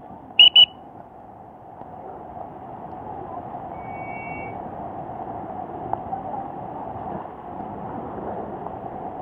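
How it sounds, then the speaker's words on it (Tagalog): A short double whistle blast from rescuers during heavy rain and flooding, loud and near at the start, followed by a steady rushing roar of floodwater and wind. "May pito din sila"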